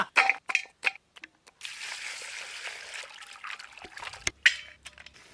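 Water pours into a cooking pot of mutton biryani base with tomatoes, salt, turmeric and sambar powder, a steady trickling stream after a few short clatters, close and fairly loud.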